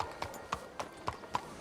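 Horse hooves clip-clopping in Red Dead Redemption 2, a steady rhythmic gait of about five or six evenly spaced hoof falls, fairly quiet with faint background ambience.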